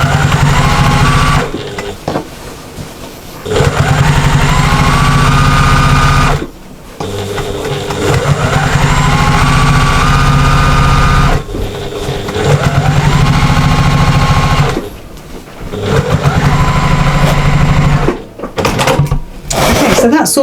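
Sewing machine stitching diagonal lines across a diamond lap quilt, a loud steady mechanical whir in long runs of several seconds separated by brief pauses.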